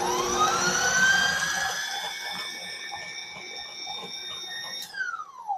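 An electric mixer whirs steadily while blending a caramel apple dip, its tone sliding upward as it speeds up, then dropping away as it winds down near the end. The sound is loud and close, with no one talking.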